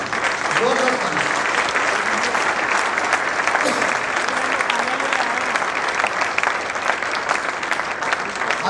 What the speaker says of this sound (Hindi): आए एक जोरदार ताली से खुदा के नाम को बुलाएं, जोरदार ताली।